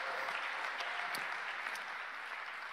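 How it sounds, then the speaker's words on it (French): Steady applause from a church congregation during a sermon, a dense, even wash of many hands clapping at a distance, with a few louder claps standing out and no talk over it. "2 personnes applaudissent?"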